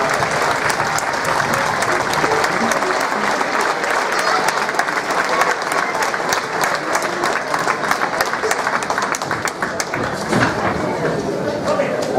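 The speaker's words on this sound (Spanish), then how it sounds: "Un fuerte aplauso para San Andrés y Sauce" A crowd applauds the San Andrés y Sauce municipal band at a Santa Cecilia awards event, with loud, dense, sustained clapping throughout and faint voices mixed in.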